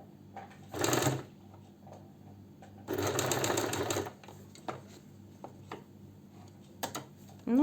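A sewing machine stitches a fabric cover for a basket in short bursts, two louder runs of stitching separated by quieter pauses with small clicks and handling noises.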